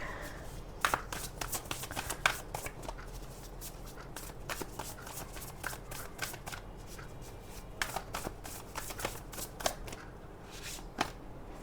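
Oversized tarot cards being shuffled by hand, a steady, busy riffle of papery flicks and slaps running close and continuous, with no talking over it.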